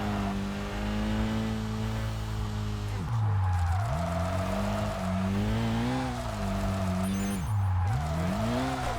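Race car drifting in Kaido Racer 2: a loud sustained engine drone that dips and climbs as the car slides, with squealing tires through the corners and no talking.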